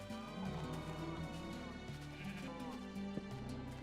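Sheep bleat in Minecraft, a video game, with several nasal bleats in a row, close and fairly loud, over light game ambience.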